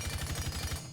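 Zofia's M762 assault rifle fitted with a flash hider fires a rapid full-auto burst in Rainbow Six Siege, steady evenly spaced shots at close range, loud and alone, cutting off abruptly after about a second.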